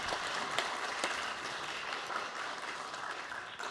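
Steady, dense applause fills a children's national assembly ceremony hall, welcoming the Speaker of the National Assembly; continuous clapping from a large audience with no voices over it.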